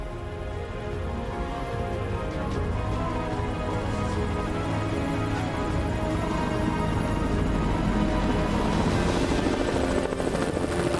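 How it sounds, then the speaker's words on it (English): Helicopters flying overhead above a narrow canyon, a steady loud rotor drone that holds and swells slightly as they pass, with a broad rushing wash behind it and no voices. "We heard helicopters initially flying overhead"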